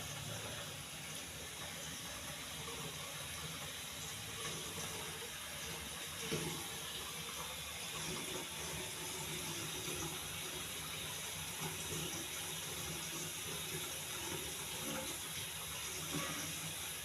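Water runs steadily from a kitchen tap while a pot is washed by hand, a continuous faint splashing stream with small clinks, heard without talk.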